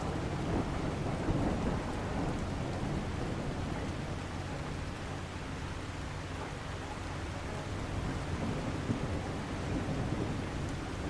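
Thunderstorm with steady heavy rain and rolling thunder outside in The Last Caretaker, a dense continuous roar at an even loudness with low rumbles running under it throughout.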